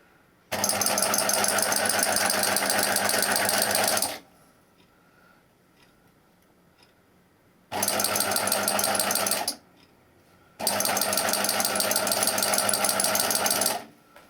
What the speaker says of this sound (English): we've just sewn right off the edge of the fabric and pulled it out